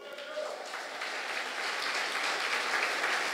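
A church congregation at a celebration service applauds, the clapping swelling from moderate to fuller and louder over a few seconds, with some voices mixed in.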